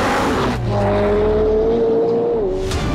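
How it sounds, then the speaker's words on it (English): A McLaren P1 supercar accelerates hard on a race track, its engine a loud sustained roar with a rising pitch held close throughout, alone without talk. "P1 bludgeons it down the straights, but this is closer than I expected."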